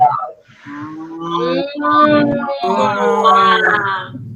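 A person's voice imitates a water buffalo with long, low moaning moos that rise and fall over several seconds, loud and close with no other sound.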